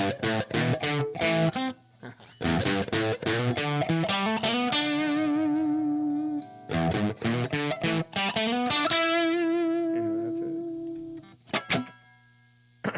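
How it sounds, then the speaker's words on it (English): Gretsch electric guitar played through the Cascode channel of a vintage Marquee Club amp, giving a gritty 60s tone: choppy strummed chords, then sustained ringing notes, two loud phrases separated by a brief pause. "I got a Gretsch going through the Cascode channel on the old Marquee Club."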